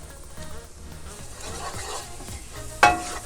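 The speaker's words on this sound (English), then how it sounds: "we're just gonna saute the spices for a minute or so" Cumin, onion powder, rosemary and Italian seasoning sauteing in a pan for a vegetable stew, a faint, low sizzle with soft stirring and one sharp scrape or clink near the end.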